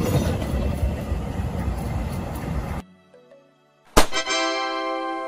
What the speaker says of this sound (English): Hybrid trains use a combination of energy sources, typically diesel and electric power